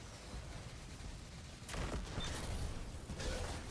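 Enemy gunfire in Destiny 2 crackles faintly in the background, then picks up into a louder burst of rapid shots and mechanical clatter in the second half, with no voices.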